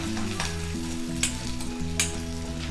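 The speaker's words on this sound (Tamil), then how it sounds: "இஞ்சி பூண்டு நம்மளுக்கு நல்லா பொரிஞ்சிடுச்சு" Chopped ginger and garlic sizzling in hot oil over a high flame for chicken cutlets, a steady close crackle with stirring scrapes throughout, no voices.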